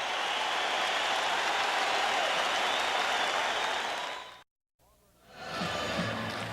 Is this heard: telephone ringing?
no